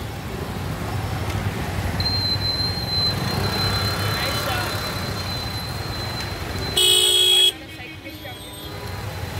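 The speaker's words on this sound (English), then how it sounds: "that's typical Bangalore traffic" Rainy Bangalore street traffic in Raja Rajeshwari Nagar rumbles along with engines passing close, a sharp horn tone running for several seconds and a loud honk blast near the end, while people talk over it.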